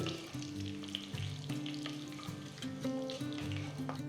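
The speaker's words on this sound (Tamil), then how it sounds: "கடுகு நல்லா பொரிய ஆரம்பிச்சிருச்சு" Mustard seeds, fenugreek and broken dried red chillies frying in hot oil for a Tamil brinjal kara kuzhambu, a steady close sizzle with scattered crackles and pops, no voices.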